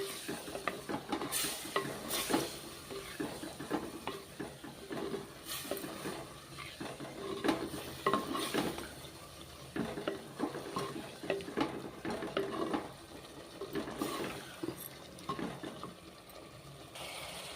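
Tamarind extract is stirred and sautéed in a pan for bitter gourd thokku, with a steady close sizzle and repeated spoon scrapes against the pan throughout.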